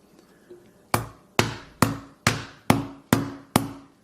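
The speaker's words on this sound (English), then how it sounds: "As I'm doing those small little hits, you can already see the cracks are spreading all across the phone here." A hammer strikes the screen of an iPhone 12 Pro in seven sharp, evenly spaced knocks about half a second apart. Each hit is close and crisp and decays quickly, with a faint tap before the series begins.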